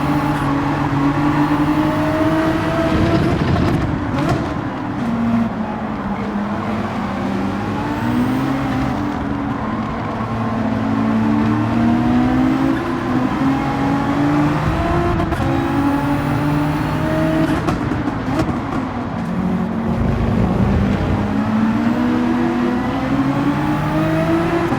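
Race car engines roar continuously at Interlagos in Gran Turismo 7, several cars close together with harmonic whine rising and falling as they shift and brake, loud throughout with no voices.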